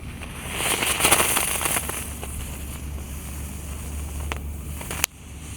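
Giant spinning ground firework, a Gangsing Jumbo lit at night, burning with a steady hissing, crackling roar over wind noise, with a few sharp pops near the end.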